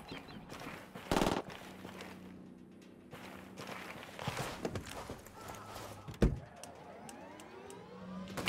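Gunfire in Ghost Recon Wildlands at a rebel-held area of Santa Blanca: a few sharp, loud shots, one near the start and one later, over a low engine hum and scattered footsteps, with no talking.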